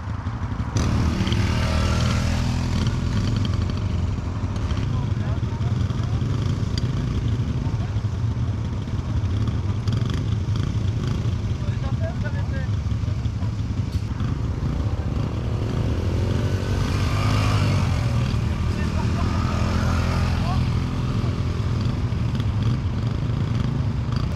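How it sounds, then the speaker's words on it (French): Motocross motorcycles revving and droning continuously at a women's riding course, engine pitch rising and falling, with faint voices underneath. "Ok, c'est des motos."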